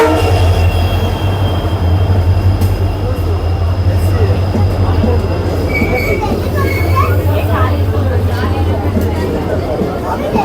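A passenger train pulls into Shivamogga Town station in South India with a steady, loud rumble of wagons and wheels and a brief squeal of wheels, continuing for the whole span.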